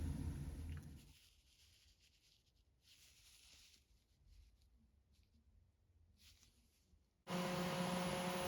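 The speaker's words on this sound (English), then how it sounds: "So I just use a grinder like this." An angle grinder works on an old metal windshield wiper insert, a steady whirring grind that runs loud at first, settles lower and intermittent through the middle, then surges back to a harsh full grind near the end.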